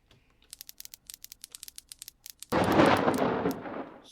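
A string of light clicks gives way abruptly to a loud, sustained rumbling crash of thunder from a lightning strike in a video game, fading slowly.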